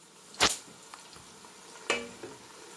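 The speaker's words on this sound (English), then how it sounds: "I'm going to pour in the blended egusi." Blended egusi goes into a pan of onions frying on low heat, with a sharp sizzling burst, a soft steady frying hiss and a second clattering surge a moment later, close up.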